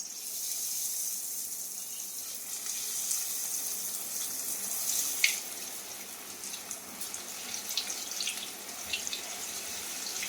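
Chicken chops deep-fry in hot mustard oil, giving off a steady bright sizzling hiss with scattered small crackles and pops throughout, and no voices.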